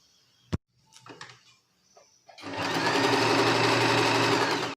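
Sewing machine stitching a quarter-inch seam on a full circle umbrella frock: a few soft handling clicks and rustles, then a loud, steady, rapid mechanical whir of stitching for the last two seconds, no talk.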